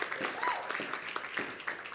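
An audience at a university summer writing program event claps steadily, a dense patter of many hands at moderate distance, sustained throughout.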